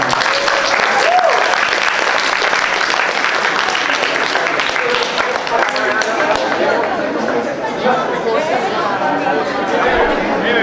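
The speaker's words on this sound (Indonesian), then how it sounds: "sekali lagi tepuk tangan untuk teater Selatan" Audience applause for a theatre group after a stage performance, loud sustained clapping from a crowd filling the whole stretch, with chatter and voices mixed in.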